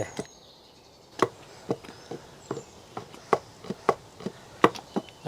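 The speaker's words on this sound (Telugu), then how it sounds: "చింతపండు మూడు వేసేసుకుని మెత్తగా దంపేసుకుని తీసేసుకుందాం" Brinjal, salt and tamarind pounded in a stone mortar for a chutney, heard as about a dozen sharp, close thuds in an uneven rhythm that follow a brief quiet pause.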